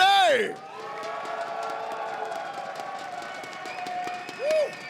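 Crowd of SMITE esports fans at a Las Vegas tournament cheering and whooping under a host's amplified voice, with a swell of cheers at the start and another brief burst near the end.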